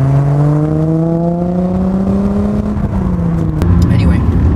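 Audi B4 Coupe engine heard from inside the car, a steady droning hum with a low rising-and-falling tone under road and wind noise, fairly loud and continuous.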